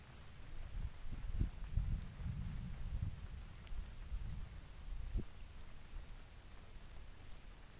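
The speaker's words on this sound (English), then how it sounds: "The rain's getting heavier." Steady hiss of heavy rain falling during a thunderstorm at Hauts du Brel, with a few soft low thumps and rustles early on and wind noise throughout.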